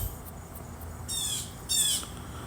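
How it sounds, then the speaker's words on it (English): A bird calls outdoors in two bright bursts of chirping over a faint insect-like background hum, moderately close and without speech. "This bird going off right now."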